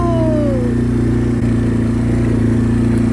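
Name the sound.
motorcycle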